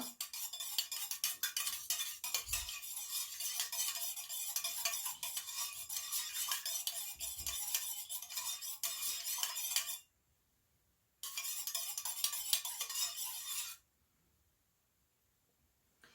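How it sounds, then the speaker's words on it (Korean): A homemade car diffuser fragrance mixture is stirred in a container, a rapid close clinking and scraping of utensil against vessel that runs continuously, pauses briefly, then resumes before stopping. "잘 섞어 주도록 할게요."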